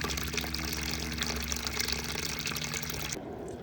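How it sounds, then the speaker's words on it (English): Water heater draining out through a fully extended garden hose into a bucket, a steady loud rush of flowing water that continues alone and cuts off abruptly near the end. "Now you see the water heater draining out, and we're removing all the sediment out."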